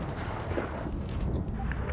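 Tank cannon fire and battle noise from a tank combat video game, with a Jagdpanther tank destroyer firing among medium tanks; a dense, continuous roar of distant booms and rumble runs throughout.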